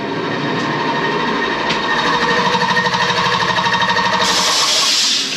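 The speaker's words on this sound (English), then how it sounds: "Give that air compressor a break." An air compressor running during work on a 1957 GMC paint job, a loud, close mechanical drone with a rapid rhythmic pulsing that hammers on steadily for several seconds, with a hissy shift near the end.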